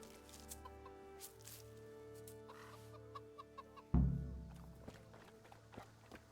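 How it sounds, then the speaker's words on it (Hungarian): Chickens clucking in the video game Kingdom Come Deliverance, a few soft scattered clucks over quiet background, with a sudden louder thump or flutter midway. "Feed the chicken."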